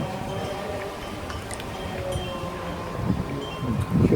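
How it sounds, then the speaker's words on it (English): Wind blowing outdoors on a blustery day, a steady low rumble of gusts buffeting the microphone throughout, with faint rustling and stronger bursts toward the end. "it's quite a windy day today"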